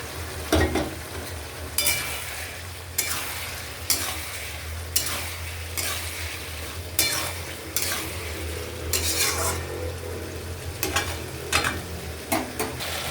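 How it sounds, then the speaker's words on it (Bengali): Paneer sautéed and stirred in a pan for a paneer posto dish, a spatula scraping and clinking against the metal in repeated strokes over a steady low sizzle, close and fairly loud with no talking. "এবার আমি পনিরগুলো দিয়ে একসাথে কষাবো"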